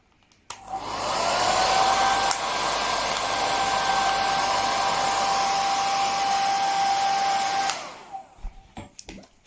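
A Philips Essential Care BHC010 1200W hair dryer running on its low setting switches on abruptly, holds a steady, loud, whining fan tone for about seven seconds, then cuts off, leaving a few faint clicks.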